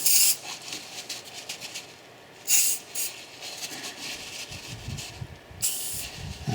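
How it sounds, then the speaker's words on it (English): Penetrating spray from an aerosol can hisses onto the centre hub of a car's rear brake rotor in a few short, loud bursts with pauses between them, close by and with no talking. "So I'm going to put some more of my penetration spray."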